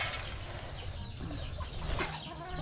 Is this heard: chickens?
yes